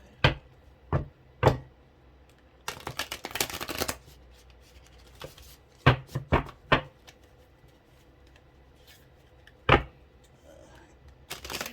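An oracle card deck is shuffled by hand in short, crisp bursts of riffling and tapping, separated by quiet pauses, close to the mic with no talking.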